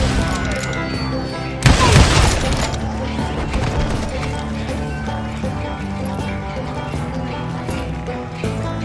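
Gunfire from hired guns in the western video game Call of Juarez Gunslinger: a loud burst of shots lasting about a second, set against steady background music and clopping hooves.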